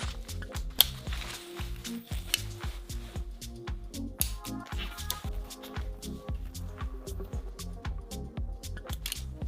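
Ratcheting screwdriver clicking steadily as three wires are tightened into the terminals of an electrical outlet socket, a dense run of close, quiet mechanical clicks with no voice.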